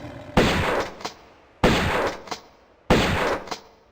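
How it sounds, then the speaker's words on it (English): Shotgun blasts at lions in Tomb Raider I Remastered, three loud, evenly spaced booming shots, each with a short decaying tail and a quieter follow-up click. "Me, I'm going to use shotgun, but you can use automatic pistols or shotgun."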